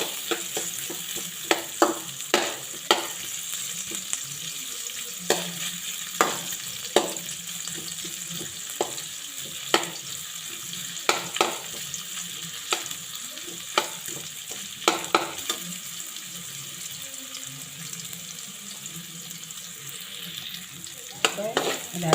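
Ginger sautéing in a pan for a Bicolano shell dish, a continuous sizzle broken by sharp scrapes and clacks of stirring at irregular intervals, no talking.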